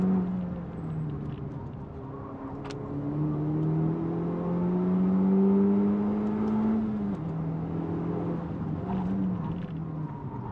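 A Honda Civic Type R FL5 lapping the Nürburgring, its engine droning and rising steadily through the revs, then dropping back and climbing again, heard continuously from onboard.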